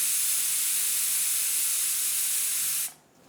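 A pressure cooker on a gas stove hisses steam in a loud, steady rush that cuts off sharply near the end.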